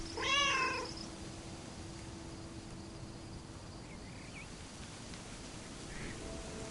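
Several cats meow in a quick run of rising and falling calls near the start, followed by a steady hum and faint insect-like chirps through a quiet background.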